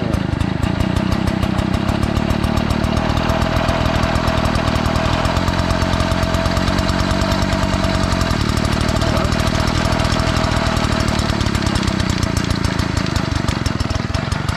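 Small old moped engine just pulled out of a barn, running steadily after starting with a loud, fast rattling two-stroke buzz that holds unbroken at close range.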